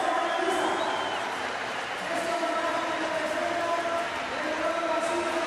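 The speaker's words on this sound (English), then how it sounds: "the applause of her home crowd." A big home crowd at the track cycling world championships applauds and cheers a rider after her race, a loud sustained roar of clapping and voices filling the velodrome, with a commentator's voice over it.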